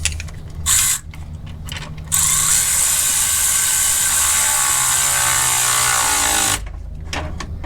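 Ratchet tightening bolts on a 2006-2011 Ford Crown Victoria cooling fan assembly, a loud steady run of rapid clicking pawl sound lasting several seconds after a few short bursts, with no talking.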